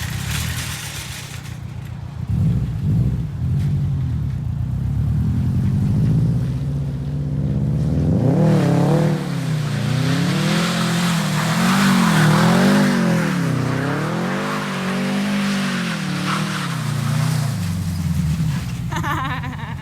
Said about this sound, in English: it'd be cool to do some donuts here